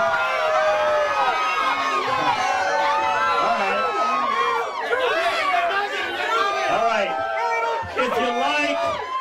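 A Halloween costume contest crowd cheers, whoops and chatters in a loud, continuous roar of many voices, with excited shouts rising and falling throughout.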